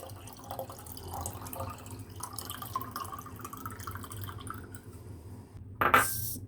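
Water trickles and drips into a measuring cup in a home kitchen while corn and egg soup is prepared, faint and close, ending with a brief louder splash.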